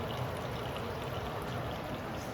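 Water drips and trickles steadily into a pot while chicken curry is being cooked, a soft continuous wash of sound with no talk.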